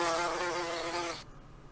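Steady buzzing of bees, a dense droning hum with a high whine, fairly close, that cuts off abruptly near the end, leaving quiet background.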